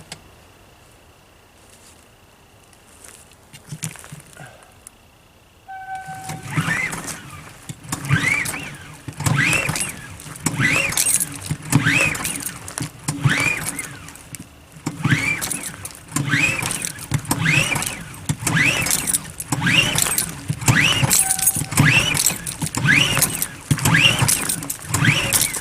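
Small RV generator being cold-started with the choke on after months of sitting: a quiet stretch, then the engine cranks in a long run of rapid, even, repeated pulls at close range, loud and rhythmic without ever settling into a steady idle.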